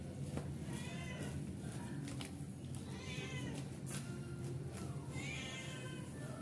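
A cat meows repeatedly in a home kitchen, with several rising, strained cries spaced a second or so apart over a constant hum of room noise.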